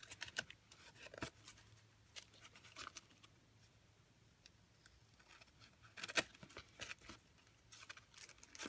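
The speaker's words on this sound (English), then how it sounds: "I'm going to just trim this one up. So just trimming along with my scissors." Paper trimmed with scissors during a card-making craft session: faint, quiet snipping and rustling in short irregular bursts, with soft clicks scattered across a hushed room.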